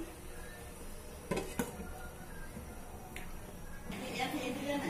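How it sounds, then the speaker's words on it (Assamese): A lid is placed on a cooking pot of chickpeas, making a couple of sharp metallic clinks over a low background hum, with a voice talking nearby. "মই আকৌ ঢাকন দি থম।"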